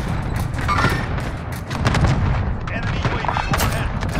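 Rapid gunfire bursts and booms from a shooter video game crackle almost continuously, loud and dense, with a voice talking over the shots.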